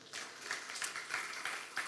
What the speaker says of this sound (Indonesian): Yang menjadi milik kepunyaan Tuhan, beri tepuk tangan dulu buat Tuhan.